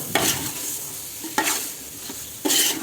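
A spoon stirs small tomatoes into chicken biryani masala in a pot, three scraping strokes over a continuous low sizzle.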